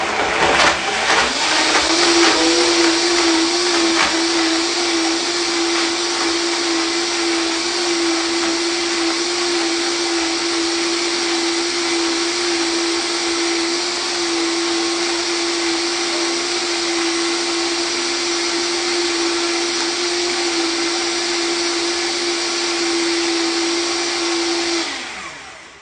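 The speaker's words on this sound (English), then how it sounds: "I can't show you the blender right here, so I'm just gonna put it on here. We're gonna turn it on." A kitchen blender whirs steadily for about twenty-five seconds, blending a walnut, chili and strawberry salad dressing, with a loud, constant motor drone and a sustained hum that cuts off abruptly at the end.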